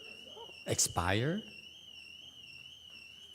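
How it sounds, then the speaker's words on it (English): A fire alarm going off inside a temple gives a steady, continuous high electronic tone that runs through the whole stretch, with a short burst of speech briefly over it early on. "some sort of fire alarm again."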